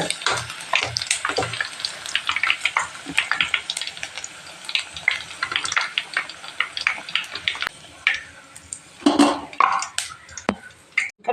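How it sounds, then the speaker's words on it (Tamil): Chicken 65 deep-fries in hot oil over a medium flame, giving irregular crackling sizzles and sharp spattering pops that come and go at close range, with no talking. "நல்லா மீடியம் ஃப்ளேம்லேயே நான் வச்சுருக்கேங்க ஃப்ரை ஆகிடுச்சு எடுத்துடலாங்க"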